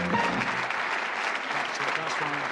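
A studio audience at a British darts-themed TV game show gives a dense, even burst of applause for departing contestants, with faint voices underneath.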